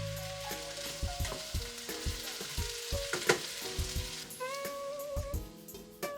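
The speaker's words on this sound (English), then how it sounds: "I like to let my herbs and spices cook in with the meat before I put the sauce" Ground meat cooking with herbs and spices sizzles steadily in a pan for spaghetti sauce, with a continuous close frying hiss, occasional stirring scrapes and utensil clicks, and no talking.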